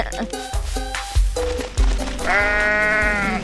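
A sheep in the Goat Simulator video game gives a drawn-out, wavering bleat near the end, and a player talks over the game sounds just before it.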